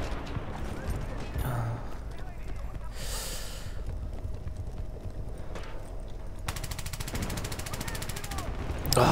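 Bursts of automatic gunfire from a machine gun in the Battlefield Bad Company 2 video game, with short rapid volleys mixed among game noise and a player's speech.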